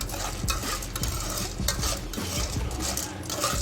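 Popcorn kernels sit in hot oil over a medium flame under a dense, crackling sizzle. Irregular small ticks and pops scatter through it, close and fairly quiet, with no voices.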